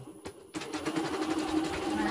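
An embroidery machine under repair at a service center starts after a couple of clicks and settles into a fast, even stitching chatter, fairly quiet and close.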